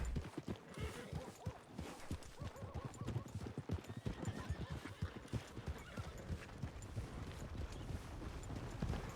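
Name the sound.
horse hooves and neighing in video game (Red Dead Redemption RP)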